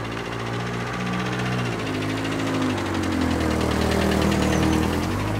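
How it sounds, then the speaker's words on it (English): A car engine rumbles and rattles steadily close by, its low mechanical drone shifting a little as it passes. No one speaks. "You hear that car rattle?"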